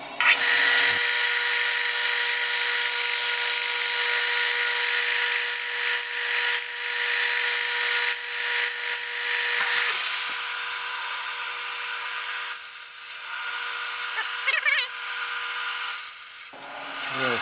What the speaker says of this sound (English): maybe on my belt sander.